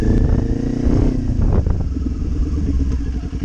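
A Kawasaki Ninja 400 motorcycle rides past close by with engine roar, then eases off under braking, with some clattering and wind flap, loud and continuous.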